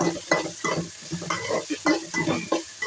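Tomato pieces being stirred into okra stew frying in a pan, heard close up as scraping stirs in quick uneven strokes over a constant sizzle.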